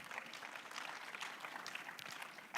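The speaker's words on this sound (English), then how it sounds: "A round of applause." Audience at a veterinary conference giving a round of applause, a soft spread of clapping from many hands heard at a distance, fairly faint and continuous.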